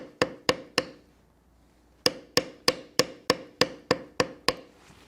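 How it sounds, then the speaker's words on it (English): Sharp, even metal-on-leather taps from a beveling tool working the scales of a dragon scale gauntlet: three quick strikes, a brief pause, then a steady run of about ten evenly spaced blows, close and clear. "as we bevel the next row, beveling on the outside of each scale"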